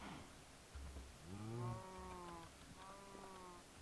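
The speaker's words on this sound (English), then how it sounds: "So now that gives us 2 liquid nitrogen cows." A liquid nitrogen cow from the Minecraft modpack Project Ozone 3 gives a single drawn-out moo that bends upward and then holds steady, clear and close, with no talking.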